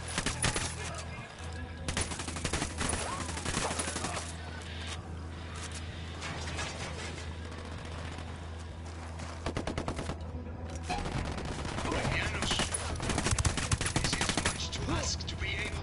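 Video game gunfire in Ghost Recon Wildlands: dense, rapid bursts of automatic fire mixed with single shots, fairly steady and continuous across the whole stretch with short pauses, played back at low volume.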